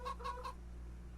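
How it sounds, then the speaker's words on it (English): Chickens in the video game Farming Simulator 25 cluck three times in quick succession, mid-pitched and fairly soft, then fall silent over a low steady background hum. "Let me check and see if my chickens ate any food."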